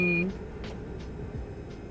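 Short electronic beeping from the American Truck Simulator video game, a brief steady tone at the start that gives way to a low engine-like rumble.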